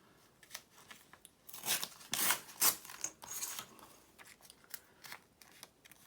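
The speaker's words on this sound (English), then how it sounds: "Cut a little triangle out of some sort." Scissors cutting a small triangle out of magazine paper, a run of close crisp snips and rustles, with a few louder cuts clustered in the middle, no speech.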